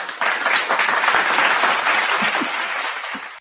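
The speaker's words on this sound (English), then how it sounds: "Let me applaud." Applause from a studio audience greeting a trustee candidate for the Village of Monticello onto a talk show, a dense steady clapping wash that holds for a few seconds before thinning out at the end.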